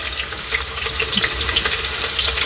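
Green chilies frying in hot oil during a spice tempering for red lentil khichdi, giving a steady close sizzle and crackle throughout with no talking.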